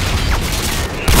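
AGM missile strike in Call of Duty Modern Warfare 2 Special Ops on PC: a loud, sustained roar of blast and gunfire-like crackle with deep low rumble, ending in a sharper, louder burst.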